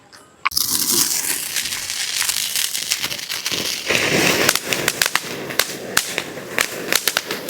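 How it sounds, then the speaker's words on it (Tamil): A Rambar firecracker going off: a sharp initial burst, then a sustained fizzing crackle broken by many rapid, loud pops that grow more sporadic toward the end. "இது ஆக்சுவலாக வெடி தான் இப்போ வெடிச்சே பார்த்துடலாம்"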